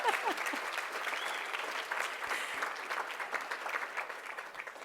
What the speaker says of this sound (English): Can we just keep the applause going for a second for the blue hair?